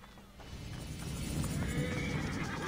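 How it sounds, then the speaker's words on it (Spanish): Horses neigh and whinny with hooves clip-clopping in Assassin's Creed Origins, a short burst against a busy game background that builds slightly louder, with no speech. "Tengo caballos cerca."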